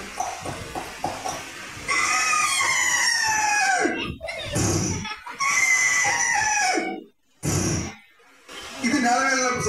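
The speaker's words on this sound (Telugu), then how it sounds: "కోడి పుంజి అది ఎరిస్తే అలా ఉంటుంది." Rooster crowing loudly and close, several long rising-and-falling calls with a few clucks between them, the crows filling most of the stretch with short pauses.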